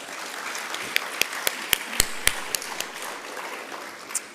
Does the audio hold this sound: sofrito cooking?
no